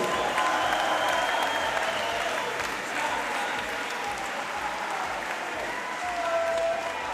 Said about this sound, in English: Ladies and gentlemen, a big round of applause for both fighters.